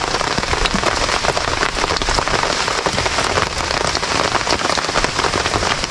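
Heavy storm rain pours steadily in a forest, a dense, loud, continuous hiss of drops striking leaves and surfaces with no break and no voices.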